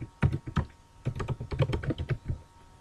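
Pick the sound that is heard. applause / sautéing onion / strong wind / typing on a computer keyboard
typing on a computer keyboard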